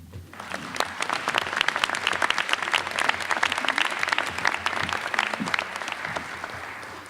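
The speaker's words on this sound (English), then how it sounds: "clap for Ariel" Audience applause at a School of Sustainability fall convocation: dense, steady clapping that swells quickly and holds for several seconds before easing off.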